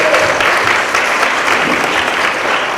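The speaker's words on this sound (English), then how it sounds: "let's give them just a great applause" Students and teachers at a school council meeting break into loud, sustained applause, a thick, continuous roar of clapping heard close by.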